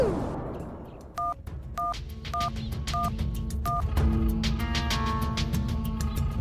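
Cartoon telephone dialing: a series of about five distinct, evenly spaced touch-tone beeps rings out clearly over a busy background, followed by a sustained, layered tone.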